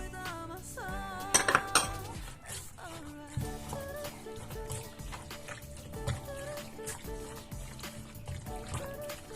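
Utensils clinking and scraping in a bowl while mixing a bulgogi marinade of honey, sugar and sesame seeds, a close, busy, irregular run of taps and scrapes with a brief louder flurry early on.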